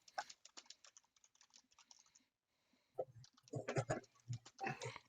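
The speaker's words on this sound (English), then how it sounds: "I'm just typing something out." Rapid, uneven keystrokes on a computer keyboard during a tabletop roleplaying game session, clicking in bursts close by, with a short pause midway and a murmur of background voices and room noise beneath.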